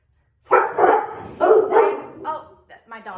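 A pet dog named Bubba barks at home, several loud, close yaps in a burst, with a person talking over and between the barks.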